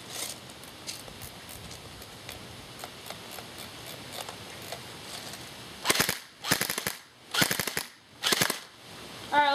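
A G&G GR16 R4 airsoft rifle fires at close range: scattered light ticks at first, then several sharp full-auto bursts in quick succession.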